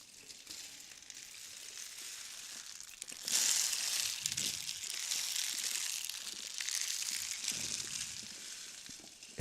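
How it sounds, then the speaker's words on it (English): Seeds inside a ceremonial instrument flow down slowly, producing a soft, continuous rushing hiss that swells partway through, like waves drawing pebbles across a beach. "oftentimes seeds, that just flow down and create this wonderful slow sound."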